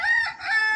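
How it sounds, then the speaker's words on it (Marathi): A desi free-range rooster crows once, loud and close, in a short, strained call with no voices around it. "एवढं आपलं कोंबड्या इकडे तिकडे आपले फिरतात"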